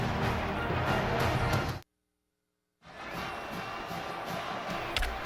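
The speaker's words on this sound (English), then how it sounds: "Crowd on fire" A college football stadium crowd at an Oklahoma Sooners versus Texas Tech Red Raiders game roars loudly and steadily, cuts to near silence for about a second, then returns as a dense, sustained roar.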